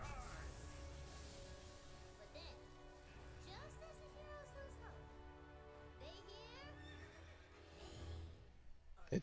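Butt Stallion, a horse in the video game Tiny Tina's Wonderlands, neighs in several short whinnies over a steady game ambience, fairly faint and mixed with light hoof clatter.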